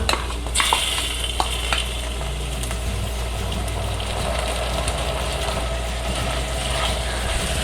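Chunks of ripe tomato fry in a pan with onion and garlic for cashew nut curry, making a continuous loud sizzle broken by occasional clicks and scrapes of stirring.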